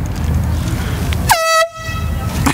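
A loud air horn blast sounds during a public prank, a sharp, bright tone lasting under half a second that cuts off abruptly, with murmuring street noise and faint voices before and after.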